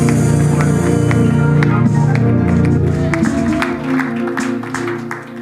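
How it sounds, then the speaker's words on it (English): A church congregation claps hands in praise, rapid and scattered, under loud sustained music and singing, with the clapping becoming more distinct as the music dips near the end. "Can you clap your hands and give him praise in this house?"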